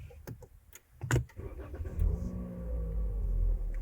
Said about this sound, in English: you can just go ahead and put your phone down and start the car